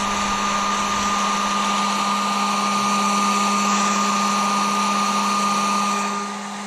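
A heat gun warms vinyl graphics on a Honda CR125R motocross bike. It gives a steady, loud blowing whir with a constant tone that runs close for nearly seven seconds and then drops slightly, with no talking.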